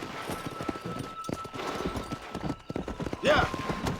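Horse hooves clip-clop in a quick galloping rhythm in the Red Dead Redemption video game, close and steady beneath speech, with a short whinny near the end.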